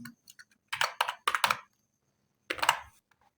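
Short bursts of keystrokes on a computer keyboard while entering a word into an HTML5 form's code, several quick clusters of clicks separated by pauses, close and clear with no talking.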